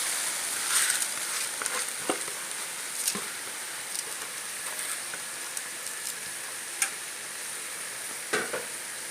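Soaked rice stirred into a pan of sautéed peas, carrots and onion seasoned with fried-chicken spice, giving a soft continuous sizzle with scattered scraping stirs, close and steady, no voices.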